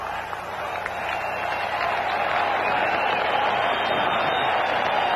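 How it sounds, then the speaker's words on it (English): Broad, steady crowd noise of applause and cheering fills a stadium at Soldier Field, sending off young champions. A dense wash holds at an even level for several seconds, with a voice faintly mixed in. "now let's send these youngsters to the division competition with a nice round of applause"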